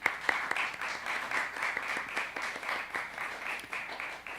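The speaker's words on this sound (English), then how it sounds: "Please join me in giving them a round of applause." An audience in a room applauds the production team, with a lively crowd of individual claps that is fairly close and sustained, distinct sharp hand strikes standing out across the whole stretch.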